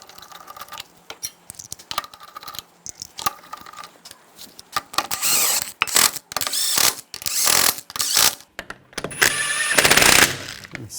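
A ratchet spins lug nuts onto the rear wheel of a 2014-2020 Nissan Rogue, giving sparse, light clicking at first that turns into denser, louder bursts of rapid ratcheting near the end.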